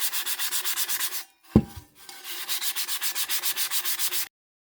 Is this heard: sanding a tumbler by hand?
yes